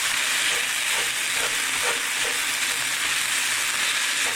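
Spices with cayenne pepper are stirred in a hot pan as a bourbon chicken dish with jasmine fried rice is cooked, making a loud, continuous hissing sizzle with faint scraping strokes.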